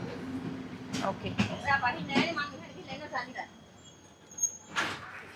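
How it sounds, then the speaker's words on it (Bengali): A train pulls into Awkana railway station in Anuradhapura district, Sri Lanka, with clattering and knocking from the carriages, a few sharp bangs and a hiss near the end, while people talk nearby. "চলে এসছে আমাদের ট্রেন আওকানা রেলওয়ে স্টেশনে"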